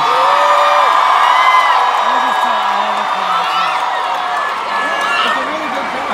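Concert crowd at a show in New York City cheering and whooping, a loud sustained roar of many voices with scattered shouts and clapping, steady throughout.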